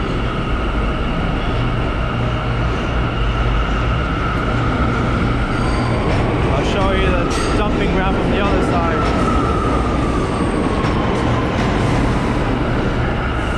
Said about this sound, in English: There's a J train entering the station. R179, for those who are interested.